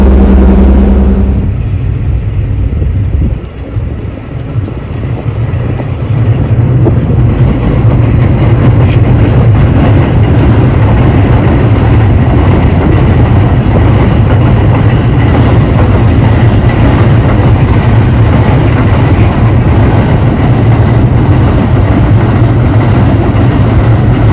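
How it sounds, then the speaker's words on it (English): The Auto Train rumbles past close by, a loud continuous roar with rattling wheels that holds steady throughout. "That happens to be the auto train."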